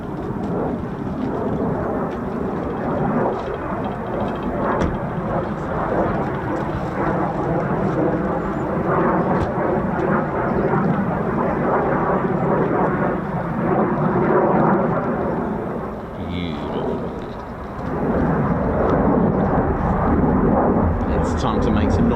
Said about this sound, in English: Nice F-35 on its own there and all.